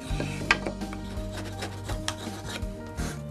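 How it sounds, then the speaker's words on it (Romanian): Wooden stool legs are sanded by hand, producing close, steady rasping and rubbing strokes with occasional sharper scrapes and no talk. "Trebuie să șlefuiesc picioarele"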